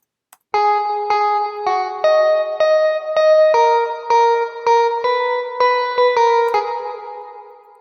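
A distorted, synthetic-sounding electric guitar, a software recreation of a well-known pop song's guitar sound, plays a sequence of sustained chords, each struck separately and ringing with reverb, fading out at the end.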